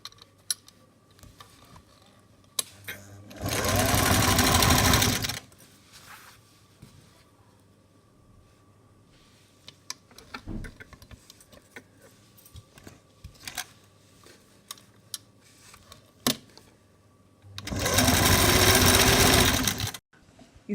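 Sewing machine stitching the side seam of a two-layer long party dress, running in two sustained bursts of a few seconds each, with quiet handling noises and small clicks between the runs and no talking.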